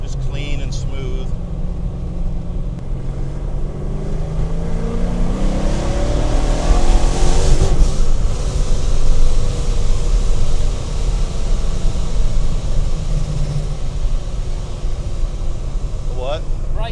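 A 408 engine, suffering fuel pressure problems, pulls hard and loud inside the car, its drone rising and falling, with voices heard over it.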